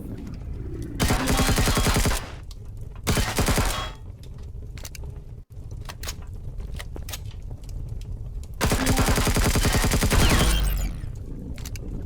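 Bursts of automatic gunfire from a weapon in the sci-fi game Empyrion Reforged Eden 2, loud rapid volleys in several long stretches separated by short pauses, no talking.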